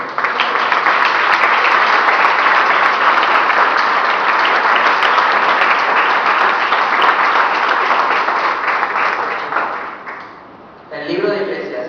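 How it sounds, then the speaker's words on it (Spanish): A church congregation applauds steadily for about ten seconds, a dense, loud wash of clapping that fades near the end before a voice begins speaking. "¿Cuántos le pueden dar un aplauso al Señor?"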